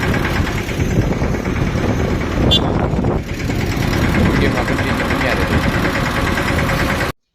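A motorcycle engine runs steadily at close range in a village, a continuous mid-pitched rumble with a brief dip partway through.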